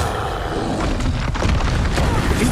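A loud, dense explosion effect from the Expulso spell in the video game Hogwarts Legacy, a sustained rumbling blast filling the whole clip with no clear talk over it.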